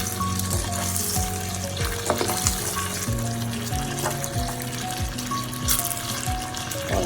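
Potatoes sizzling steadily in hot oil, with repeated scraping knocks as a coconut-shell spoon stirs them through the pan, close and continuous with no talking.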